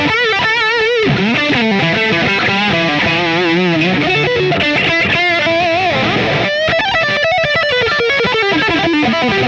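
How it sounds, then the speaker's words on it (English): A heavily distorted electric guitar lead tone from a Line 6 POD HD300 plays a sustained line with bends and vibrato, loud and continuous, with a brief drop near the end before resuming. "that's a bank with all distortion sounds, so lead sounds"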